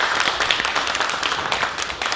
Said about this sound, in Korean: 다시 한번 큰 박수 좀 부탁드리겠습니다.